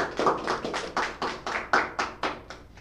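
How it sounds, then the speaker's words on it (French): Children applaud together with about ten steady, evenly spaced claps in a quick rhythm, close by and fairly soft, with no talking. "On va applaudir Erida pour la question que vous posez."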